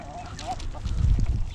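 Farm ducks or geese give a few honking, nasal calls up close, overlapped by low rumbling movement and handling noise, all within a brief moment.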